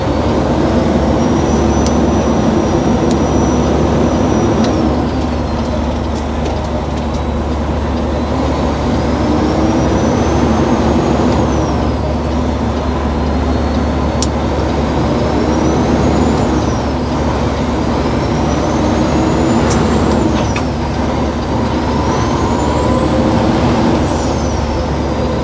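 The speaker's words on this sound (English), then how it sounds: "Turbo sounds so good." A Peterbilt 389 truck drives along with a loud, constant engine drone, and a turbo whistle rises and falls repeatedly above it; no talking.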